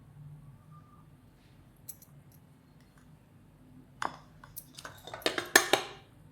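Nankhatai dough is mixed in a bowl with a plastic spatula: quiet soft scraping at first, then a burst of sharp clinks and knocks against the bowl toward the end.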